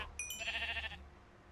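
A sheep in the Minecraft video game gives a single short, wavering bleat, quiet and close, with no talking.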